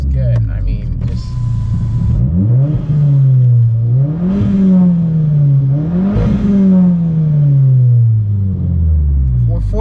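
An MK7 Volkswagen Golf with a Stage 3 tune revs loudly up close, the four-cylinder climbing and falling in several repeated surges with a deep rumble between them, while a person talks.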